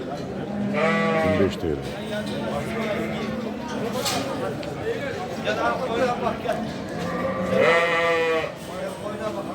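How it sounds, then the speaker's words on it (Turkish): Several native Angal sheep bleat at the start and again near the end, close by, over a steady murmur of people talking in a busy Turkish livestock market. "Yerli Angal koyunu"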